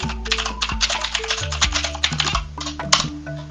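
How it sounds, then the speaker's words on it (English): Rapid, irregular clatter of keys on a computer keyboard, close and fairly loud, continuing steadily for several seconds with no talking. "What are you typing away over there?"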